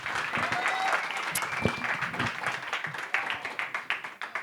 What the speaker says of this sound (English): let's give our panelists an incredible round of applause